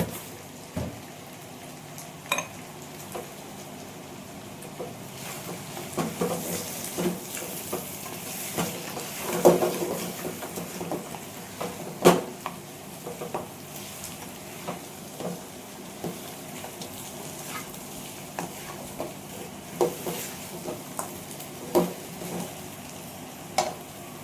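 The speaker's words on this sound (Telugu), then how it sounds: "కారం వేసాక బాగా వేయించుకోవాలా" Spicy chicken roast frying with chili powder in a pan, with a steady low sizzle and scattered soft clicks and scrapes of stirring throughout.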